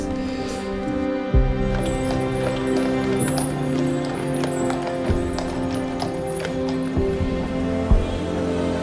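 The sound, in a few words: horse hooves clip-clopping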